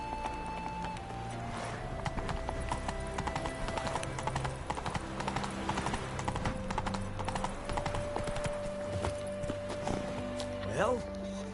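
Roach the horse gallops in The Witcher 3 on PS5 around Novigrad, steady rapid hoofbeats clip-clopping over a game soundtrack and ambient drone throughout, with a brief flurry near the end.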